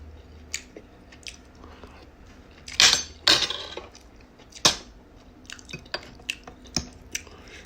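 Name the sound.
chewing vegetables while eating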